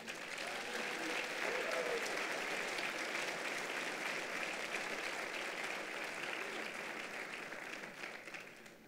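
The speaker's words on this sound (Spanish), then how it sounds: "Dale un aplauso al Señor." A church congregation applauds during a sermon on spiritual gifts, a long, steady roar of clapping that holds evenly, then fades slightly at the close, with some faint cheering mixed in.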